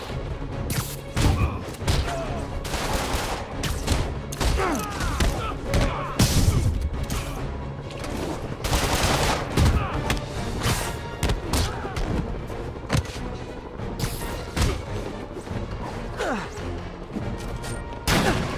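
Shotgun blasts during a prison riot fight in Marvel's Spider-Man, repeated loud bursts and crashes scattered through busy, chaotic combat noise with intermittent impacts.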